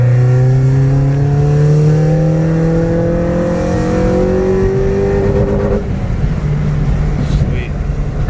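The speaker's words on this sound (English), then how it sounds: "let's go ahead and do the 3rd gear pull" A tuned car pulls hard in third gear from 3000 RPM, its engine note rising steadily and loudly before cutting off near the end, with a voice speaking over part of the run.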